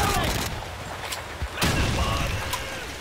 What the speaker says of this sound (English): Grenades, lots of grenades.